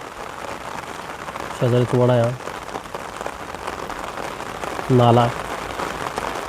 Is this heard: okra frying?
no